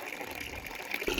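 Wheat grains are rinsed in water in a vessel, giving a faint, steady splashing and swishing with a slightly louder slosh near the end.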